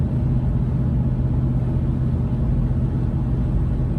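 Steady low road rumble fills a 2019 Ram Rebel cabin riding on BF Goodrich all-terrain tires at highway speed, an even, continuous drone with no talk.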